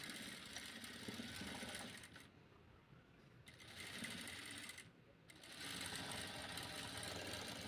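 A sewing machine stitching a small girl's frock runs in quick rattling bursts, pausing twice briefly before starting again, close and fairly quiet with no voices.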